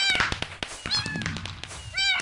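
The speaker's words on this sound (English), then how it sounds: "I got exploding cats around me" Several cats meow repeatedly around the player in a Minecraft party game on a Hypixel server, short overlapping mews close and loud with light taps between them.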